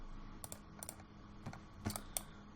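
Several quick bursts of keystrokes on a computer keyboard, typed in short clusters at a desk during work in Unreal Engine, fairly close but quiet, with no talking.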